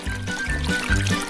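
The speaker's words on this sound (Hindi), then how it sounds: "अब मैं इन सबको गर्म पानी डालकर उबालूंगी।" Hot water poured over noodles while cooking, a steady close pour with repeated low gurgling surges roughly every half second, continuous and fairly loud with no talk.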